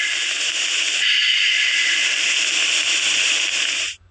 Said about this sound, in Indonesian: Itu suara radio kresek-kresek gitu ya.